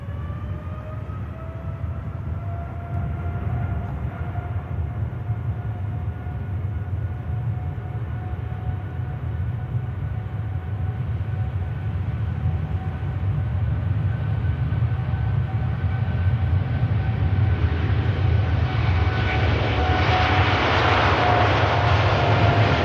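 TUI Boeing 787 Dreamliner taking off from runway 05 left at Manchester Airport, a distant engine roar with steady whining tones that swells gradually louder as the jet gathers speed.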